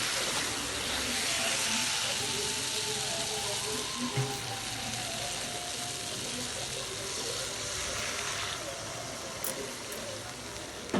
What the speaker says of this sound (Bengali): এবার পরিমাণ মতন জল দিয়ে দেবো।